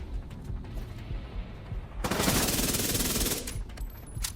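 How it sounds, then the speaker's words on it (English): Cover fire in the shooter game The Division 2: a sustained, dense burst of automatic gunfire erupts midway, loud and continuous for over a second, preceded and followed by quieter scattered shots and game ambience. "I'll give you some cover fire!"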